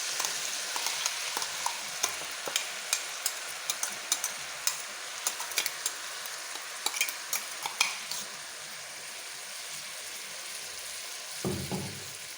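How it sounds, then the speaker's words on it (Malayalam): Sliced onion sizzles steadily in hot oil with chilli powder for a Kerala onion chammanthi, punctuated by repeated sharp clicks and taps of a stirring utensil against the pan, ending with a brief low thump. "എണ്ണയിലേക്ക് നമ്മൾ അരിച്ച് വെച്ചേക്കണ സവാള ഇട്ട് കൊടുക്കുകയാണ്"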